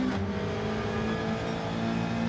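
In a racing video game, a Subaru GR3 race car at Daytona accelerates hard, its engine a steady, loud droning whine held throughout with no voices over it.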